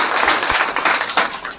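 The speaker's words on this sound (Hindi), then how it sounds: "वैष्णवी के लिए आप ताली बजाएं सब बच्चे." Children in a classroom clap for a classmate, a brief burst of scattered hand claps, fairly close, with no talk over it.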